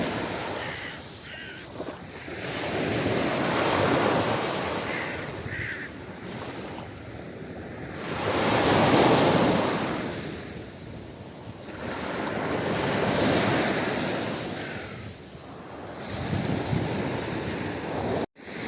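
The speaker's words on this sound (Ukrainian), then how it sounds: "І море трошки." Black Sea waves wash onto Otrada beach in Odesa in slow swells, rising and falling with wind, and crows cawing now and then in the background.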